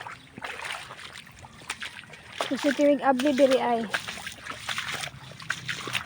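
Floodwater washes over a submerged rice field after heavy rain, sloshing and splashing in uneven bursts. Someone talks over the water nearby.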